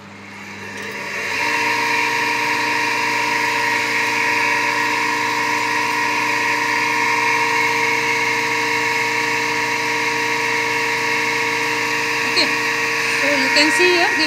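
A three-phase induction motor coupled to a generator spins up and then hums steadily during a load test, with a constant electrical whine and mechanical drone, plus faint clicks near the end.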